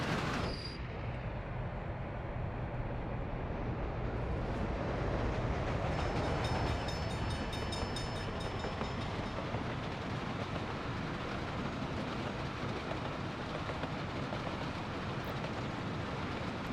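Freight train wagons rolling in the W&R Waste video game: a steady, loud, continuous rumble and rail roar holding for the whole stretch, with no voices over it.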